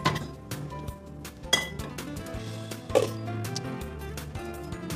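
Pots, pans and utensils clatter in a kitchen as cooked macaroni is set aside and a kadai is placed, with several sharp metallic clinks and knocks at irregular intervals over a quiet background.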